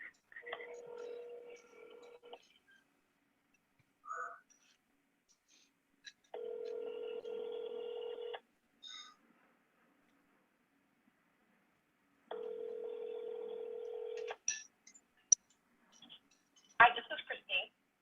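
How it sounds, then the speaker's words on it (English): A telephone call to a home-owner lead: two long steady ringback tones separated by quiet, with short dialing tones and brief clicks between them, heard clearly through the handset with no talk over them. "dialing."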